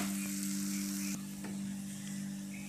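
Curry leaves fry in hot oil for lemon rice, giving a steady moderate sizzle and crackle close by with a few faint clinks of a stirring utensil, and no voices.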